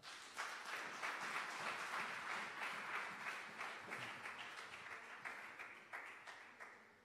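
A church congregation breaks into sustained applause, a dense wash of many hands clapping steadily for several seconds before thinning slightly toward the end; no speech over it.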